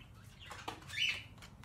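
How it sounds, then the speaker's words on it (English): Birds flutter and flap their wings close by in a few soft, brief bursts over a quiet background. "I'm sorry about the fucking birds."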